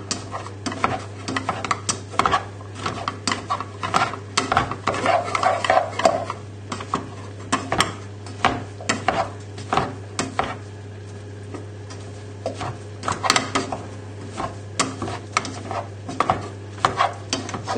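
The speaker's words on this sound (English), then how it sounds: "So just keep mashing." Potatoes mashed in a pot with butter, milk and parmesan, a close, busy run of rhythmic thuds, squelches and metal clacks of the masher against the pot, repeated steadily over a low hum with no talk.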